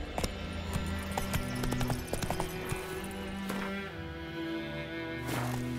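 Horse hooves clip-clopping at a steady galloping rhythm in The Witcher 3, close and prominent over a bed of game music, with a faint whinny near the end.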